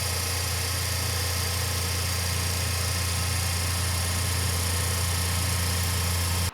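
Metal lathe turning at 1,000 RPM while cutting a workpiece, a steady loud machine hum with a constant low drone and broadband whine, unbroken and close throughout with no talking.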